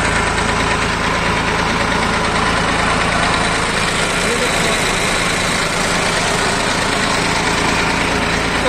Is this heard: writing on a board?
no